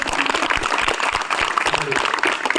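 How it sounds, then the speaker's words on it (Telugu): Schoolgirls clap together in a school gathering, a brief burst of dense, close applause with a voice briefly mixed in. "ఒకసారి క్లాప్స్ కొట్టండి"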